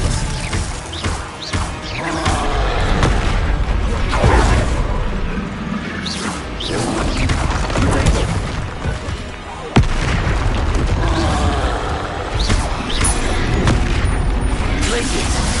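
Glacius and Expelliarmus spells are cast in a Harry Potter-style magic game, producing a busy stream of booming blasts, crashes and whooshing impacts with voices shouting over the loud effects.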